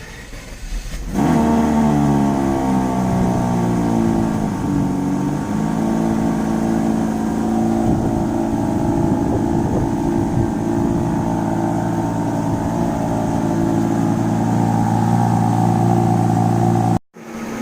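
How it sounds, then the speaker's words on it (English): Mercedes W140 S600 V12 starting, cranking briefly then catching into a steady idle. Hydraulic suspension pump whines alongside as a loud, continuous tone close by, sustained for over fifteen seconds before a brief cutoff. "That noise you guys hear in the beginning, we believe, my car does the exact same thing, my W140. It's the pump"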